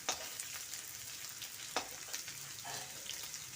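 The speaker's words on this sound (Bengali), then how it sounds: "আলুগুলি মোটামুটি ভাজা হয়ে এসছে।" Potatoes frying in a pan, a steady close sizzle with a few sharp clacks and scrapes of a spatula stirring them, no talk.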